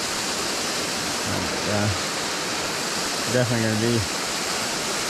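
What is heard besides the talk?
small waterfall on a trout creek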